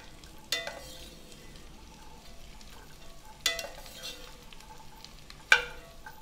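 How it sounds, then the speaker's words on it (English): Corn kernels and spring onion whites fry softly in rendered pork belly fat, a quiet sizzle under three distinct scrapes of a utensil stirring the pan. "So I'm going to go in with the corn now, the 2 ears of corn, as well as the spring onion whites."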